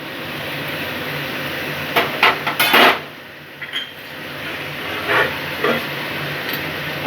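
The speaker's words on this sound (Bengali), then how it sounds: "দিয়ে একটু নাড়াচাড়া করে নিচ্ছি।" A spoon or spatula scrapes and knocks against a pan as bottle gourd cooking with turmeric and salt is stirred. A few brief, fairly close metallic clatters fall in two short clusters over a steady background hiss.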